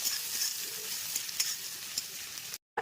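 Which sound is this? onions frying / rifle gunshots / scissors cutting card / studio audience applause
onions frying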